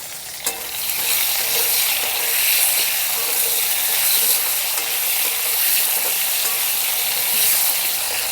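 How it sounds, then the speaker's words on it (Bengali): Potatoes frying in a pan for a Bengali shol fish curry, giving off a steady, loud, close sizzle throughout, with occasional stirring scrapes and no voices. "এখন আলুটাকে ভেজে নেব লাল করে"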